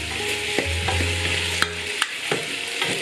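Bandari harbour-style sausage sizzles in a pan while being stirred, with a few sharp scraping clicks from the utensil. Close and fairly loud, with no voices.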